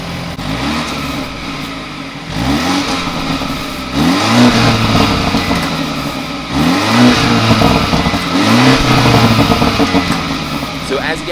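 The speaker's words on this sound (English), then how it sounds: "take a few exhaust clips of the car right now" A stock BMW 330i F30 with only a tune is revved repeatedly at a standstill, its exhaust rising and falling in about four separate rev swells over a steady idle, fairly close and moderately loud.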